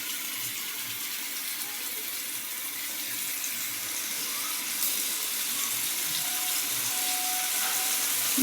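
Rui fish fry in hot oil in a frying pan, producing a steady, dense hiss of sizzling that holds evenly and swells slightly toward the end, with no talk.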